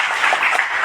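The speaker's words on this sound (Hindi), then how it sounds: "एक बार जोरदार तालियां जितेंद्र सर के लिए" Brief, steady applause from an audience at a Vestige business meeting, clapping for a speaker named Jitendra, heard loud and close for under a second.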